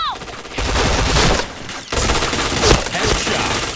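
Rapid bursts of gunfire in the shooter game Point Blank, loud and dense, broken by a brief pause midway, with game sound effects and voice-like tones mixed in.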